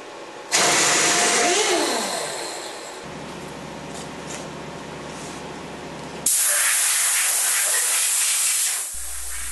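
Compressed air blasts loose chips off a milling machine in two long, loud, hissing bursts, with a quieter mechanical hum running between them.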